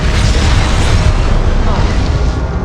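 A fiery Confringo spell blast in the Hogwarts Legacy video game, a loud rumbling boom that rolls on for a couple of seconds with dense low-end roar, heard close and alone.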